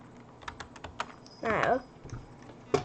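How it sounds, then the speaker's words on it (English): Someone types on a computer keyboard, with a run of light, close key taps spread unevenly across a few seconds and one short burst of talking in the middle. "you're gonna want to type this exactly how I did"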